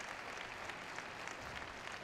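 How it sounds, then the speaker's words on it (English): Spectators at a professional squash match applaud after a long rally, a steady wash of many hands clapping at a fairly quiet, distant level, with no voices standing out. "Rapturous applause"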